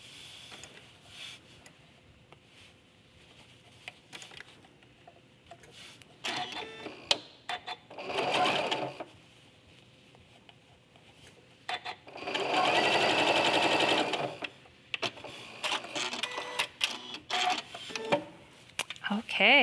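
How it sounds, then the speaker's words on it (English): A sewing machine stitches two pieces of quilt binding together, running in two sustained bursts between quieter handling and soft background voice. "evenly sew these"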